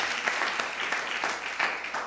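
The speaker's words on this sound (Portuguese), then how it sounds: "levante a mão para o céu e aplaude e glorifique ao Senhor nessa noite" A church congregation applauds during a night service, giving a dense, steady burst of clapping at close range with no talking.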